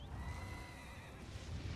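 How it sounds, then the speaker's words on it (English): A spectral blood horse rising out of the ground in The Elder Scrolls Online gives a loud, steady whinnying neigh with a wavering high tone that fades after about a second, over continuous low rumble and game ambience. "The blood horse comes out of the ground."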